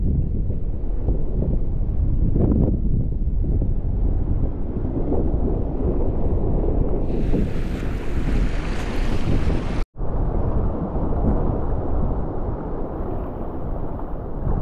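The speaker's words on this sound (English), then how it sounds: "Crazy wind." Strong wind blows outdoors on the water during fishing, buffeting the microphone with a loud, continuous roar that cuts out for an instant near the end, with no talking.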